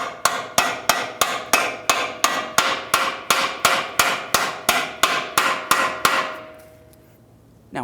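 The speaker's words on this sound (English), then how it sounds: "once you drive the ball joint in here, you want to make sure it's completely bottomed out against the knuckle" Metal hammer blows driving a lower ball joint into the steering knuckle of a 2012–2016 Subaru Impreza, about sixteen loud, evenly spaced ringing clangs close by, then a fading ring and quiet.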